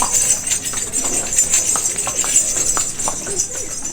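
Horse-drawn cart hooves clip-clopping along a street on Gili Air island, a steady run of light, sharp hoof knocks at moderate distance over a faint background hiss, with no talk.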